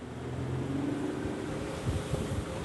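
A Nuvola 23 motorboat speeds up on the water from displacement toward planing, its engine drone steady and moderately quiet under wind and water rush, with a rising tone and some thumps near the end.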